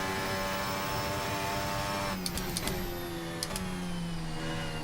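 Formula Hybrid 2017 race car engine in Assetto Corsa, a steady high-revving whine with a vacuum-like tone that shifts pitch partway through, with brief crackles from gear changes, loud and continuous.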